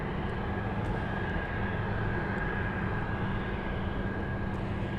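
Steady, loud broadband roar of a UPS cargo jet taxiing at Anchorage airport in Alaska, a continuous engine rumble with a faint high whine running unbroken throughout, with no voices.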